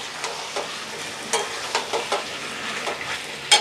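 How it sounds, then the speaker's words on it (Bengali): Chicken curry made with ground spice paste is stirred in a pan of sizzling oil, with scraping spatula strokes coming in irregular bursts over a soft, steady fry, close up and without talk. "ভালো করে নেড়ে দেবো।"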